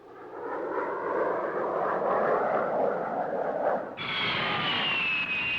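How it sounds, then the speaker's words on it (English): An F-100 Super Sabre jet roars past during an exhibition flight, a loud broad rushing engine noise that builds and holds, then gives way to a high whining tone as the jet moves off. "Slow rolls, high-speed passes, low-speed passes, and loops are only a part of the exciting exhibition flight Hoover puts on to demonstrate the versatility and capabilities of the Super Saber"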